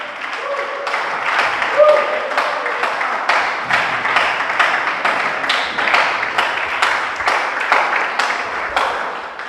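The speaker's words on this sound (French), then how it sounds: "Acclame encore plus fort." A church congregation claps and applauds steadily for several seconds, a loud, dense and sustained wash of hands with a rhythmic pulse, with voices beneath it.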